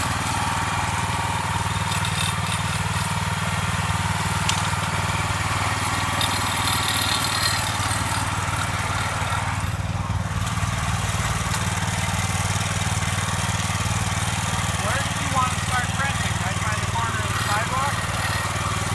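Janick 1500 small engine running steadily after a choke start, a continuous droning mid-pitched hum with a slight dip partway through, heard with background activity and no clear talk.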